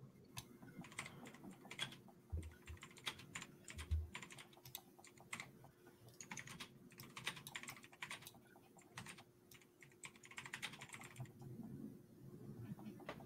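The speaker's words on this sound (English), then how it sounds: "That is not me typing." Rapid clicking of a computer keyboard being typed on, faint and continuous with irregular bursts of keystrokes throughout, quiet in the background with no voices.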